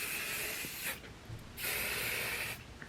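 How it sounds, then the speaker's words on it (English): Sacred hair holding spray misted over wrapped hair in two bursts of hissing aerosol, each lasting most of a second, close and moderately loud, followed by a short sharp knock at the end. "I'm gonna go in with a little bit of this Sacred holding spray just to spray."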